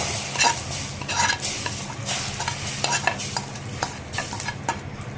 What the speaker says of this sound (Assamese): এয়া তেল গৰম হৈছে